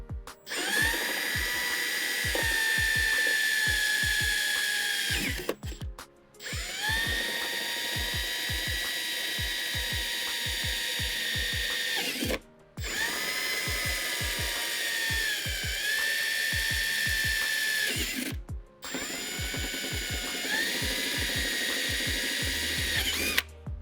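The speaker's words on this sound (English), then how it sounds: "you're going to want to go underneath the car and drill out the holes for the rivets" A power drill boring rivet holes from underneath a car, four long whining bursts of about five seconds each with brief pauses between, close and loud, joined by rhythmic ratcheting clicks.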